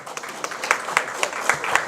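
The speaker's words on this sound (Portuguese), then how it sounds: "Mais uma vez uma salva de palmas." A small crowd claps in brief, uneven applause, individual hand claps distinct and moderately near, fairly quiet overall.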